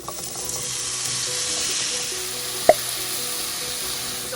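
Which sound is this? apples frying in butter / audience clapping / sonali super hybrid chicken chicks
apples frying in butter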